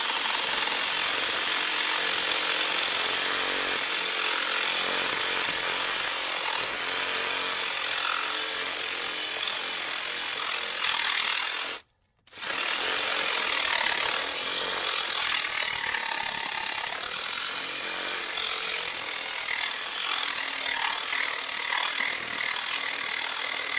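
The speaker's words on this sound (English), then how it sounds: "So see if I can't get the reciprocating saw in there." A reciprocating saw cuts steadily through metal on the A-frame of a Range Rover Classic, a harsh, close, continuous rasping that stops briefly halfway before resuming at full loudness.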